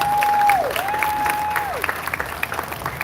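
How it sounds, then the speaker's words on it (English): Crowd applause fills a concert hall at a youth steelpan festival in the Naparima Bowl, steady clapping and scattered cheers over a sustained whistle-like tone, loud and close. "I would like you to give her a round of applause, please."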